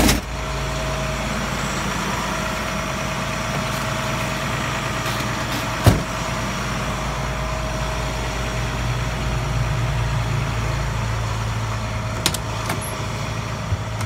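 Diesel engine of a 2005 combination ambulance and water pumper truck idling steadily close by, a low constant rumble with a brief clunk partway through and no talking.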